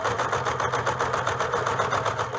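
A sewing machine runs continuously at a steady, even pace, stitching fabric for a rapier hood, with a close, loud rhythmic whirring chatter throughout.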